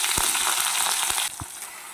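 Water lily stems hit a hot spice tempering and fry with a bright, dense sizzle; a few soft knocks land under it and the hiss eases a little partway through.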